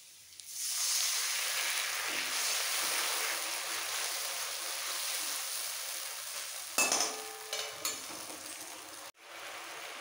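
Browned onion and liquid mustard paste sizzle and hiss steadily in a pan for a mustard pomfret curry, with a spoon stirring through it and a brief clatter of cookware partway through.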